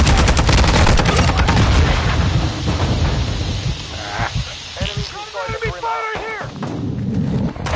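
A loud frag grenade blast in a first-person shooter game booms and rumbles amid heavy gunfire and battlefield noise, then decays into scattered shots while voices talk over the action.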